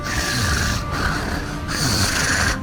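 A servant boy breathes heavily into a Voxhaler device, loud, rough snoring-like huffs and wheezes in two long continuous bursts, close and alone.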